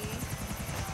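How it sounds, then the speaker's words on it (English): Helicopter in the video game GTA IV, a steady loud rotor thrum with rapid pulsing blade chop and a bright engine whine above it, continuous and alone. "Okay, so I got in a helicopter again."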